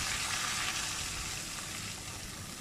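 Boneless chicken for black pepper karahi fries in a pan as a paste of onion, ginger, garlic and green chillies is added and stirred in, making a loud, steady close-up sizzle with faint stirring scrapes and no voices.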